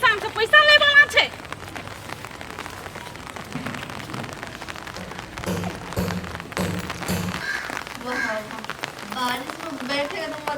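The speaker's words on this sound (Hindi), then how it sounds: "बारिश में बैठे तो मजे कुछ और बा।" Rain falls continuously with a dense patter on surfaces, heard under people talking throughout, with a brief louder voice near the start.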